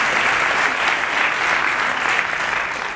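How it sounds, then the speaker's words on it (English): A summit audience breaks into loud, sustained applause for the class of 2020, a dense wash of clapping with no voices heard over it. "Applaud this class of 2020, why don't we?"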